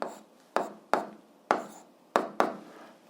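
Handwriting while working a school physics problem: six distinct close pen or pencil strokes on paper, each a short scratchy tap fading quickly, spaced irregularly in a quiet room.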